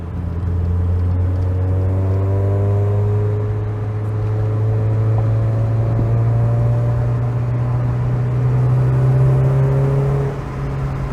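A Mazda MX-5 drives along a mountain road, its engine note rising steadily through a long acceleration in a single gear, heard from inside as a continuous droning hum.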